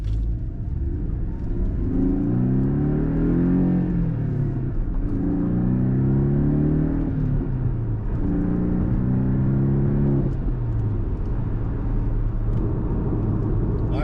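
A Porsche 718 Cayman S with a downpipe and blow-off valve accelerates hard three times, pitch rising through each gear before easing off, heard from inside the cabin with a steady rumble.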